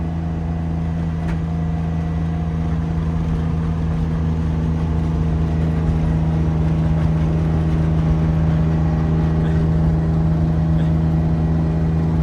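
A BMW E30 drift car with a turbocharged M50 engine drives along at normal pace, its engine giving a steady, close, even drone with a low rumble throughout and no talking.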